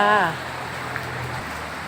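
Heavy rain pours steadily at a morning market in Thailand, a broad continuous wash of noise, briefly overlapped at the start by a voice.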